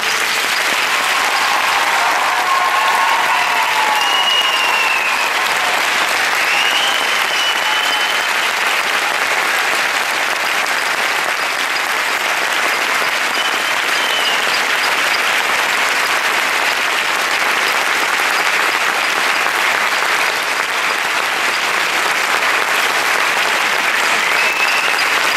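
Large audience applauding at a university graduation ceremony in education, a loud, unbroken roar of clapping that holds steady throughout, with a few faint voices rising above it.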